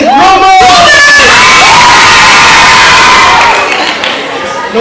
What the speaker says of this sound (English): showing their house spirit by yelling or cheering up?